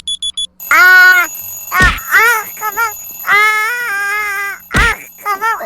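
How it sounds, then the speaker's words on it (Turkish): A Minecraft alarm clock rings at full volume in loud repeated bursts, with short beeps at the start, then warbling tonal ringing broken by sharp hits, close and dominant. "Ha bu sefer alarm kuracağım ve şu alarmın sesini sonuna çıkartayım böyle."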